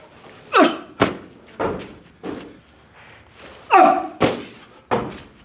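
Heavy thuds and slams from forward jumps landing with a 14-pound medicine ball during strength training, about seven loud impacts spaced irregularly, close and with no speech.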